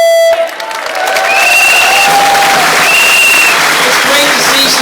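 Loud applause and cheering from a big anti-austerity rally crowd inside the National Stadium swell after a brief spoken moment, steady clapping with shrill whistles carrying on to the end.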